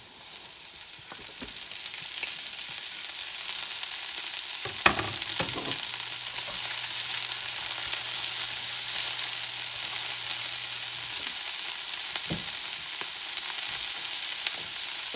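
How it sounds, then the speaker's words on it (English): Chopped cabbage goes into a pan of cooking bacon and onions, giving a continuous moderate sizzle with a few sharp clatters of stirring around the middle, no voices. "I'm going to go ahead now and add our cabbage."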